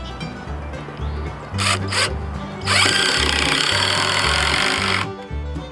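A power drill drives a self-countersinking Spax screw into a 2x4 sawhorse. A couple of short whirring bursts lead into a sustained loud whine as the screw bites into the wood, then the sound cuts off abruptly.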